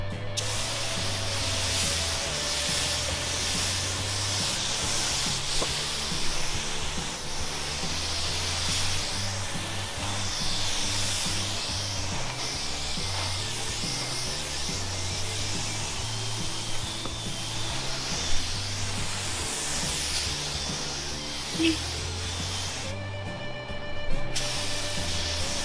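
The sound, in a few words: spray gun spraying primer coats on a truck bed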